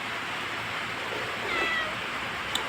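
A pet cat gives a single faint meow in the middle of a steady background hiss, ending with a tiny click.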